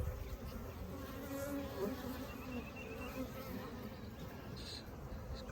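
Honeybees buzzing around an open hive during a spring inspection, a soft continuous drone of many bees with a few louder passes near the microphone.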